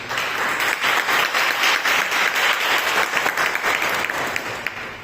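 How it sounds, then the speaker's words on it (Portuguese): A church congregation applauds the word of God, sustained dense clapping from many hands holding steady for about five seconds before thinning slightly at the end. "bate uma salva de palmas para a palavra de Deus"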